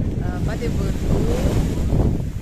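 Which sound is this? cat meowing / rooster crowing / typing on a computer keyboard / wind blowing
wind blowing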